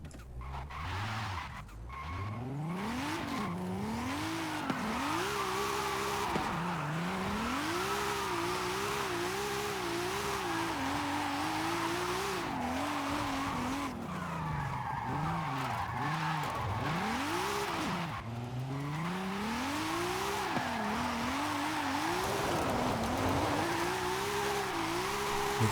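A drift car in Forza Horizon 5 slides through a downhill run, its engine revving up and down in repeated wavering sweeps while tires squeal and skid almost continuously for the whole stretch, loud and close, without talk.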